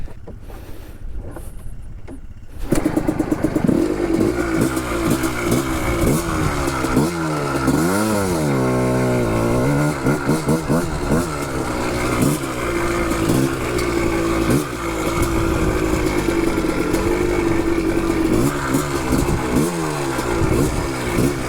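A 1985 Yamaha Tri-Z 250 three-wheeler buzzes loudly as it is ridden off-road, its two-stroke engine revving up and down continuously under heavy wind noise.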